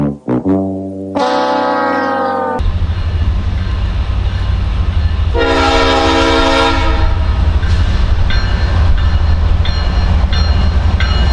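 A CSX mixed freight train, Nashville-to-Atlanta M585, blasts several loud, close horn sounds as it passes, with a steady heavy rumble and rail noise that continue throughout.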